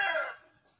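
A single short chicken cry, close and fairly loud, fading quickly into quiet.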